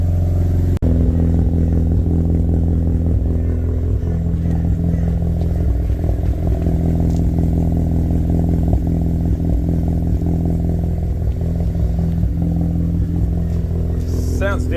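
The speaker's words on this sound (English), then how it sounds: "It's still idling the same as it used to." A Mazda RX8 rotary engine idles steadily and loudly up close, a continuous low mechanical drone with faint clatter running throughout, no speech over it.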